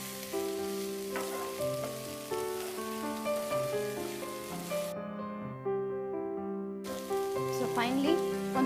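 Cooked cabbage is stirred and mixed in a sizzling pan, a continuous frying hiss with soft scraping under prominent melodic background music.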